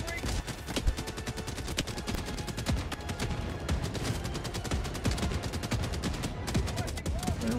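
Rapid sustained gunfire from an autocannon sentry in the video game Helldivers 2, dense repeated shots and blasts rattling continuously throughout at a fairly loud level.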